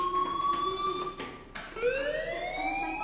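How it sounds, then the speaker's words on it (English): A fire alarm in the video game Life Is Strange wails with a steady electronic tone, breaks off briefly, then returns with a rising sweep; loud and sustained, with no voices over it. "do you hear that fire alarm? That means you should be outside."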